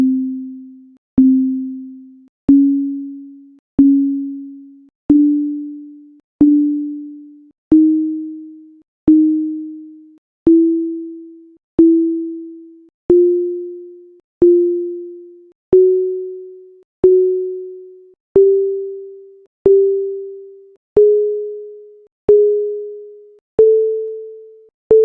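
Two strings sounded note by note to compare a non-tempered and a tempered chromatic scale: a long series of evenly spaced, plucked-like pure tones, each decaying quickly, stepping gradually upward in pitch, heard alone.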